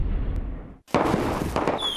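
Fireworks go off outdoors: a brief hush, then a loud booming burst followed by crackling rumble and a whistling tone, close and strong.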